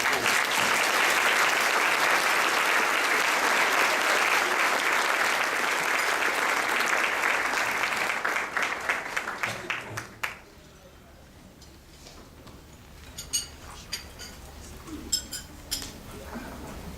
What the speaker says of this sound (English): please give them a huge round of applause when you come up to the stage